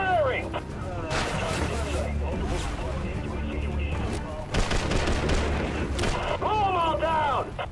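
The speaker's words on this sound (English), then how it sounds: "Watch where you're firing!" Battle gunfire in the video game Prototype 2, with repeated bursts of shots and explosive blasts mixed with soldiers shouting over radio-style voices, loud and dense throughout.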